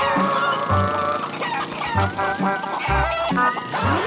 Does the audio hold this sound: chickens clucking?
yes